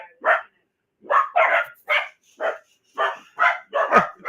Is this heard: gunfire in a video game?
no